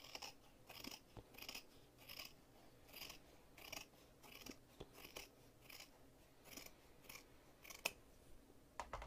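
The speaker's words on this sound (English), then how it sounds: "let me grab my fabric scissors" Scissors snip repeatedly at close range, a rhythmic series of crisp metallic cuts with short pauses between them.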